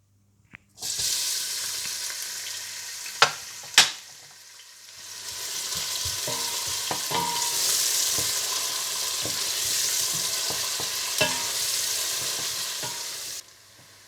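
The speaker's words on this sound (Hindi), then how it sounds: "सबसे पहले घी गरम करें, इसमें प्याज डालकर हल्का सा भून लें" Chopped onions fry in hot ghee in a pot for a pulao, a steady hiss of sizzling with a few sharp clinks and stirring knocks near the start and scattered crackles throughout, close and without talk.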